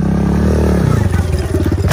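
A motorcycle engine revs hard and close, a loud rising roar that breaks into choppy, sputtering bursts partway through, with no talk over it.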